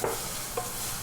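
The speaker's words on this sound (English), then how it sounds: "I'm going to caramelize some nice red onion to go with that." Red onion sizzles in curry oil as it caramelizes, a brief close burst of steady frying hiss with a small stirring scrape partway through.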